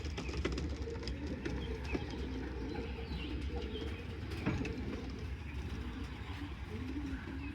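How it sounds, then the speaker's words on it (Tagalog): Young pigeons in a pigeon loft coo softly amid a dense, low rumbling background, a faint, continuous murmur of birds with occasional light knocks. "Ito yung mga young birds."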